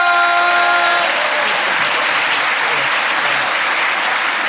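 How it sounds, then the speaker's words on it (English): A studio comedy audience at a live podcast recording bursts into loud, sustained applause that carries on for several seconds, briefly topped by a tonal sting at the start. "give a massive round of applause"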